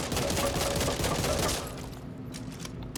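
Rapid assault rifle fire from the shooter game Back 4 Blood, a dense sustained burst of shots that fades into quieter rattling and background noise.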